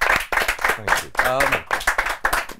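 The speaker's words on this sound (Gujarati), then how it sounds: "એક વખત જોરદાર તાળીઓ ચેતન માટે પાડ્યો." Loud clapping breaks out for actor Chetan Dhanani on a Gujarati film podcast, a dense patter of hands mixed with someone talking over it.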